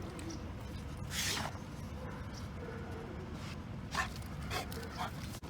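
A shelter dog gives a few sharp barks and high whimpers in a noisy room, faint and intermittent, with people talking nearby.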